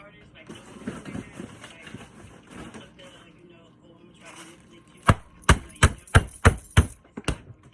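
Background voices and household noise give way to a rapid run of sharp knife chops on peppers on a cutting board, about seven close, crisp strikes near the end.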